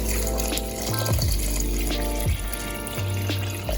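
Water poured into a cooking pot for Jamaican-style red peas soup, a steady splashing trickle that runs close and clear, with a few short breaks and faint background tones.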